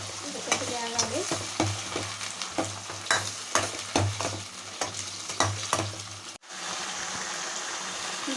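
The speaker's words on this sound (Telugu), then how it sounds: "అల్లం పేస్ట్ వేగింది." Ginger-garlic paste frying in a pan for a fish curry, a loud close sizzle with repeated scraping stirs of a spatula and a low hum beneath, the hiss continuing alone after the stirring stops.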